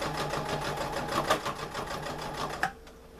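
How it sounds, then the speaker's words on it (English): Sewing machine stitching a fabric seam near a skirt waistband, a steady close rhythmic whir that stops abruptly near the end, leaving quiet. "I'm going to align the needle where I started my other seam when I was making the waistband."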